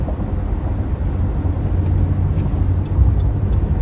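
A car cruises along an expressway through Tampa neighborhoods at rush hour, its steady road and engine rumble loud and continuous with broadband tire roar, no talking.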